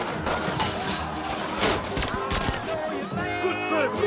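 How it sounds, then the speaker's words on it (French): Bursts of gunfire crackle through a film's action soundtrack, rapid overlapping shots with shattering impacts amid music and loud effects. "Coup de feu, coup de feu."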